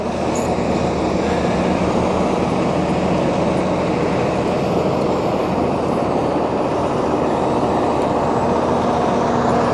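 A Valtra N174 tractor fitted with snow chains passes close by while piling snow for silage, its steady loud engine rumble and grinding chain noise running continuously without letup.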